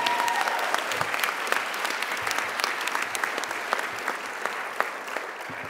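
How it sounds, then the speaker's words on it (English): An audience at a staff service and excellence awards ceremony applauds the recipients, a dense, steady wash of clapping with a few whoops that carries through to the end. "How about a cheer for all of the recipients today?"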